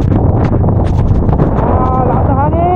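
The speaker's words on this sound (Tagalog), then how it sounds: "Lakas na hangin." Strong wind roaring against the microphone during a motorcycle ride from Pagudpud to Dingras in Ilocos, a constant loud low buffeting rumble with a voice rising briefly near the end.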